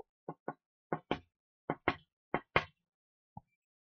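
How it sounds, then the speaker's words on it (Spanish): Soft knocks on a door, about nine light raps in loose pairs and singles, close and clear over silence, with one last faint tap after a pause. "Steel golpeó suavemente la puerta de Anthony."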